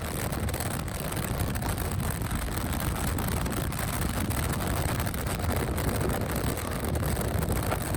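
Steady, loud wind buffeting from air rushing through an open car window while driving during storm chasing, a continuous roar with no let-up and no speech.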